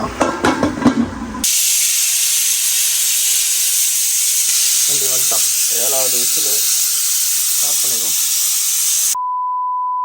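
Loud, steady hiss of steam rushing out of a pressure cooker for several seconds, with a few voices talking over it and a short beep at the end.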